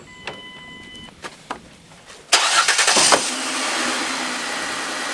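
A vehicle towing a standard trailer pulls away: an engine rises sharply into a loud, steady drive-off roar after a few quiet clicks and knocks.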